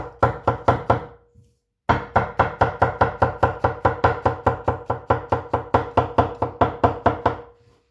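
A Deng TA-03 Chinese cleaver slices through soft mushrooms on a board in steady, rhythmic chops, a short burst followed by a pause and then a long, even run of close, crisp knocks.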